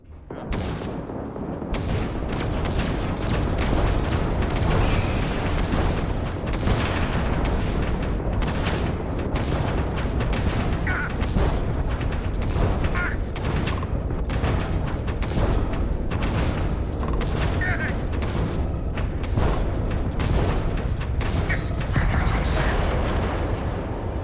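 Starfield space combat brings a dense, continuous barrage of ship weapons fire and explosions, loud booms and rapid shots layered over a steady roar that holds for the whole stretch.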